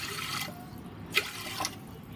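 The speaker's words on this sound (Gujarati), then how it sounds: "આપણે એમાં પાણી એડ કરવાનું છે" Water is added to dal in a pressure cooker, heard as faint, brief splashes and trickles, with a couple of small pouring bursts over a quiet kitchen background.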